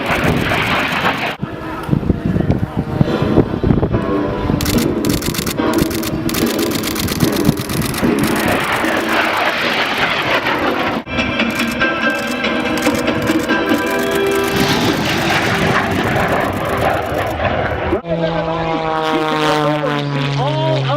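An aerobatic plane, a Dayton 540 of almost 300 horsepower, performing at the 2013 Dayton air show; its engine drones and surges continuously under a commentator's loud announcing, with a tonal whine rising near the end.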